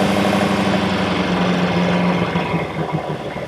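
A 1969 Ford Capri engine held steady at around 3,000 RPM on a rolling road dyno, a loud, continuous droning hum with a steady low-mid tone and no pauses.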